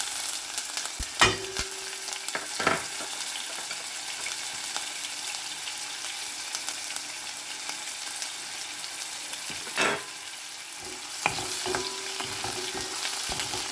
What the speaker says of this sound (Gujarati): તો એની અંદર હવે આપણે આ મરચાં, આદુ ને લસણ જે કટ કર્યું છે એ બધું એડ કરી દઈશું.